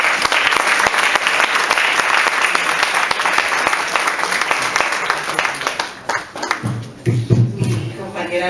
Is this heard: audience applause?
yes